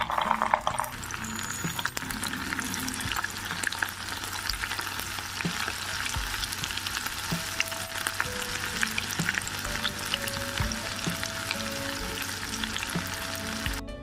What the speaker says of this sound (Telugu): ఒక కడాయి పెట్టుకుని డీప్ ఫ్రైకి సరిపడా ఆయిల్ వేసుకుని, ఆయిల్ హీట్ అయిందో లేదో చెక్ చేసుకుని ఒక్కొక్కటిగా వేసుకుందాం